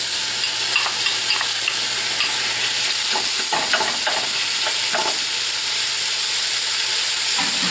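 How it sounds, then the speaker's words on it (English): Hot and sweet sausage meat, squeezed from its casing, browns in a pan with salt and pepper, giving a loud steady sizzle with scattered scraping stir sounds throughout. "I'm going to brown that up with a little salt and pepper."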